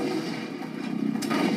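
Gunfire in the video game DUST 514 rattles in quick, fairly faint bursts over a dense background rumble, with a sharper crack near the end.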